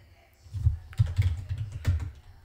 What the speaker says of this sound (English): I'm gonna run this command from root.